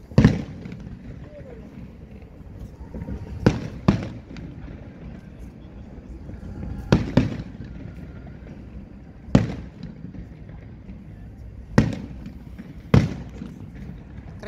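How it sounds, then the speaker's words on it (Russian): Fireworks display at a port festival in Mokpo, with repeated distant booms and pops spaced a few seconds apart over steady outdoor wind and crowd background. "Припарковались и попали сразу на салют."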